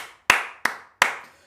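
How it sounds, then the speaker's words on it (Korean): Three sharp hand claps, spaced roughly a third of a second apart, close and crisp, each with a short ringing decay in a quiet room. "일단 박수 한번 치고 갈게요."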